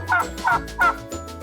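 A turkey gobbles in three quick, close bursts, followed by a softer fourth call.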